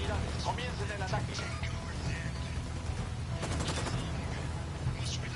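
Rapid bursts of gunfire in Ghost Recon Wildlands, with crackling volleys and heavier shots over a dense, busy combat mix; voices call out amid the shooting.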